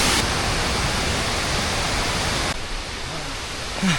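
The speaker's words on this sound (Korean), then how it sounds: "이게 하이라이트 폭포인 것 같아요" A waterfall in Laos pours as a steady broadband roar. It is loud and close at first, then drops to a softer rush partway through, with no one talking over it.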